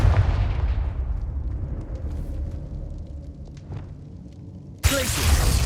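A Confringo spell explosion in the Hogwarts Legacy video game: a loud burst that rolls into a long rumbling decay, followed near the end by another sharp blast.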